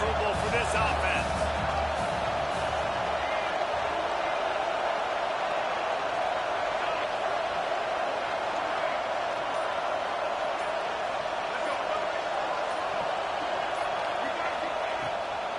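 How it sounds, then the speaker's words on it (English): Dense, steady stadium crowd roar from a college football video game, Texas A&M against Oklahoma, filling the whole stretch with a constant wash of noise and occasional thumps, with game commentary talking over it. "This crowd trying to make life miserable for this offense."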